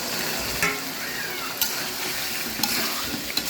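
Boiled drumsticks fry in spiced oil while being stirred, giving a continuous sizzle broken by several sharp scraping knocks of the spoon against the pan.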